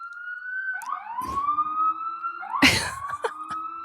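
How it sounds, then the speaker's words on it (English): Police sirens wail nearby, rising and falling tones overlapping, with a couple of short bursts of noise cutting across them. "So many sirens."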